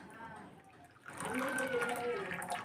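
Hot water is poured into a coffee cup that cracks as it fills. A soft trickle after a quiet start swells into a steady, close pour with a rising filling tone for the last second and a half.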